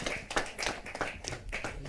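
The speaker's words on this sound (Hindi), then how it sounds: "जोरदार तालियों के साथ।" Applause from the audience at a Hindi kavi sammelan poetry gathering: a small, sparse burst of hand claps, uneven and spread out rather than a full roar, heard fairly close for about two seconds.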